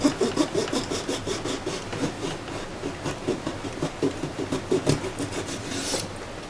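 Wood is sanded by hand in steady back-and-forth strokes, a rhythmic rasping scrape repeating about twice a second, close and fairly loud.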